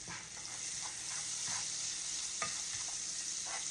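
Minced garlic frying in a pan of pork chop drippings, a broad steady sizzle with a few scraping stirs, close and fairly loud, no voices.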